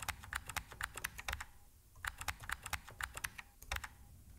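Computer keyboard typing, brisk close keystrokes in two quick bursts with a short pause between, clear and fairly quiet with no voices.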